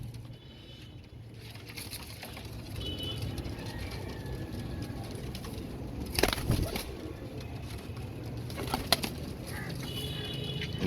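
Pigeons with dark red eyes, including a young bird, cooing softly among steady background noise, with a brief burst of wing flapping partway through and another short flutter later.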